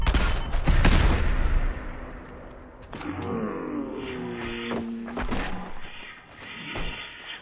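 Gunfire in the video game Fallout 4: a loud burst of rapid shots at the start, then scattered quieter shots and tonal game sounds through the rest.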